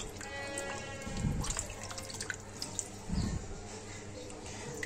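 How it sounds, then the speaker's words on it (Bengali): Raw meat being rinsed under running tap water in a sink while preparing biryani, a steady splashing water stream with a couple of louder sloshing bursts as the meat is handled. "আর এখন হলো মাংস ধুচ্ছি, মাংস দিয়ে বিরিয়ানি রান্না করব।"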